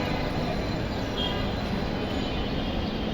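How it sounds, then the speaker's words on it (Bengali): A metro train at Motijheel metro station in Dhaka makes a dense, even roar of rail noise, steady and moderately loud throughout, with no talking. "এটা হচ্ছে মেট্রো রেল মতিঝিল স্টেশন"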